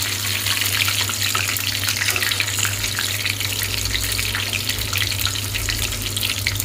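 Masala-coated tuna fish pieces fry in hot oil, a dense, even hiss that holds steady and close throughout, with no voices.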